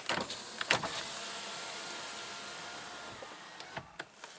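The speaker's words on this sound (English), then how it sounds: "Let me roll the window down." A car's power window motor whirs steadily as the window rolls down, a close, continuous hum with a few small clicks and knocks at the start and end.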